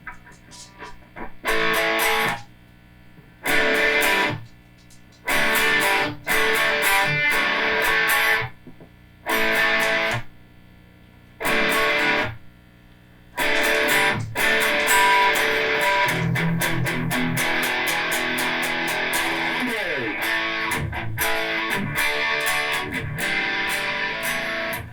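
Electric guitar through a JHS BOSS Angry Driver JB-2 overdrive pedal plays loud, gritty chords, first in repeated short stabs separated by silences, then a sustained, continuous distorted passage.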